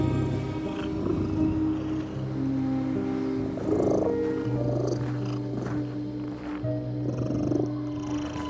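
A cat purrs steadily and continuously in a dark fantasy video game, a low rumbling drone layered with soft ambient game tones and no speech.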